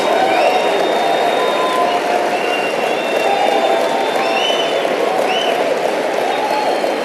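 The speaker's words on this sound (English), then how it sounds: "Give yourselves a round of applause." A large audience at a motivational speaking event breaks into sustained applause and cheering, a dense, steady wall of clapping and whoops with occasional shouts rising above it, loud and continuous throughout.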